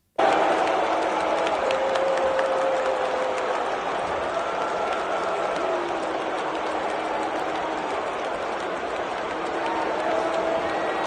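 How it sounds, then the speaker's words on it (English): Wrestling arena crowd roaring for Brock Lesnar's return, a dense, continuous wall of cheering and clapping at full volume for the whole stretch, heard alone without nearby talk. "I heard some clapping in there."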